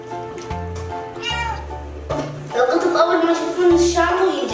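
A cat meows repeatedly in short and drawn-out cries before a bath, close and fairly loud, with soft speech and movement noise around it.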